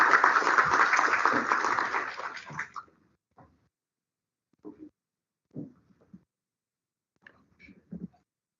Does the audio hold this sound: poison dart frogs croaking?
no